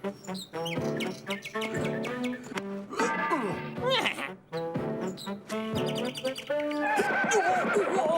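A horse whinnies amid busy animated-show sound, with lively music and bird-like chirps layered throughout the short stretch, no voices clearly standing alone.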